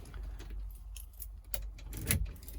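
Keys jangle briefly near a Freightliner ambulance's ignition, a few light metallic clinks over low cab rumble, with a sharper rattle near the end.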